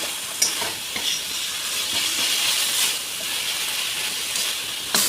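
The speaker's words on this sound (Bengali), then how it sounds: "এবার এটা আদা রসুনটা ভালো করে ভেজে নিই" Ginger garlic paste fries in a hot pan with a continuous sizzling hiss, broken by occasional stirring scrapes, close and steady with no talking.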